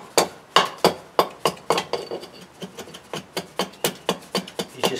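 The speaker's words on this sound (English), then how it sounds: "what you can do is actually cut against the grain" A hand carving tool cuts against the grain of a wooden cutting board, with a rapid series of sharp, close chopping taps and scraping cuts in a steady, slightly uneven rhythm.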